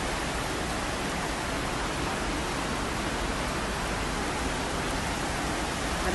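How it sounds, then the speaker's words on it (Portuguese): Heavy rain pours down during a city flood, with floodwater gushing like a waterfall, making a dense, unbroken roar that stays loud and constant throughout, with no voices. "Parece uma cachoeira."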